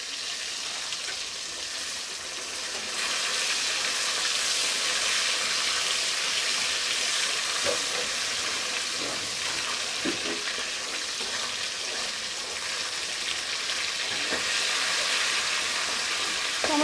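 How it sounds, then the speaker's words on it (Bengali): Tomatoes fry in oil in a pan for a vegetarian aloo dum, giving a steady soft sizzle with faint scraping stirs now and then, close and without talk. "টমেটোটা একটু ভালো করে ভেজে নেব"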